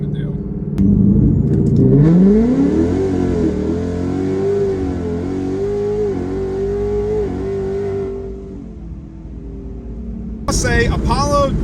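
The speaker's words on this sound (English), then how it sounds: "I'm going to power brake it just a little bit and roll right onto the throttle" A boosted Ford Mustang is power-braked and launched. Its engine swells and rises in pitch, then holds a loud, steady drone as it accelerates for several seconds before fading, and a brief voice follows at the end.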